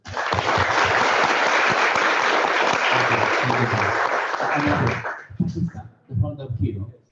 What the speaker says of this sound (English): I want you to give a big round of applause to them.